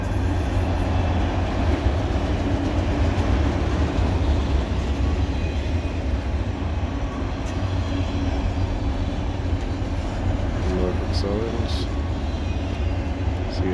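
Norfolk Southern freight cars rolling past in a CSX train, a continuous close rumble of wheels and clattering railcars with faint squeals near the end.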